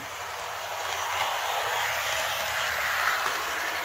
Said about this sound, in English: the locomotive is very quiet. It's moving along.